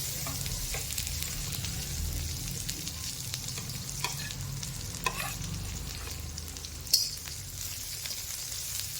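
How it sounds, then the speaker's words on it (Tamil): Garlic and curry leaves dry-roasting in a pan give a soft continuous crackle and sizzle, with occasional scraping stir strokes and one sharper clink, quiet and close throughout. "நல்லா வந்து வறுத்துடுங்க. ஈரப்பதம் இல்லாத மாதிரி வறுத்துக்கணும்."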